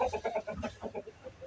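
Hens clucking in a steady series of short, rhythmic calls, close by and fairly quiet, with no other sounds around them.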